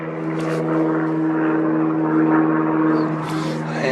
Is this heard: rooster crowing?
no